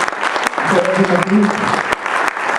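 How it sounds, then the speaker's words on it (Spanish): Applause from an audience in the auditorium of the Museo Manuel Felgueres before a conference, a burst of clapping with a voice speaking briefly over it. "Les pido un aplauso, por favor"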